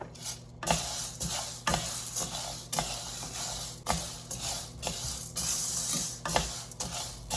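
Moong dal and urad dal dry-roasting together in a pan, a steady rattling scrape of lentils being stirred with regular spoon strokes against the metal, fairly close and without voices.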